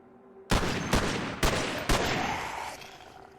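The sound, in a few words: gunfire in the video game Cataclysm DDA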